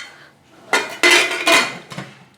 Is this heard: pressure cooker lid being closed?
yes